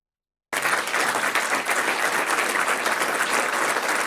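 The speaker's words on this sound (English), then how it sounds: "I feel like they're clapping for me right now" Dense, steady audience applause from a large crowd at a political gathering, loud and sustained after a moment of silence, with no clear talk over it.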